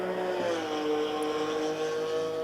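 A race car engine in Assetto Corsa Evo roars at high revs, its exhaust buzzing with a slightly tinny, harmonic whine that holds steady and loud throughout.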